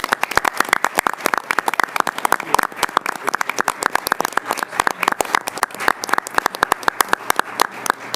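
Audience at a Board of Education meeting applauding a retiring board member, a room full of sharp, dense hand claps carrying on steadily and loudly.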